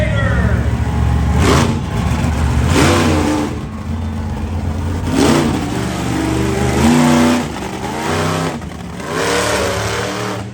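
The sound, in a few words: monster truck engine revving at freestyle show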